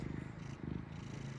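A house cat purrs close up, a low, steady rhythmic rumble that pulses continuously and quietly throughout.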